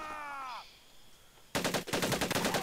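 Thompson SMG fire in the World War II shooter Medal of Honor Pacific Assault, a dense rapid burst of automatic shots starting abruptly after a short quiet stretch, loud and close, with no talking over it.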